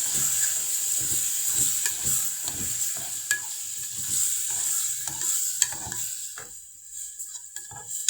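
Tomatoes for a ful dish sizzle and hiss in a frying pan while a utensil stirs them in steady scraping strokes, close and continuous, with the sizzle easing near the end.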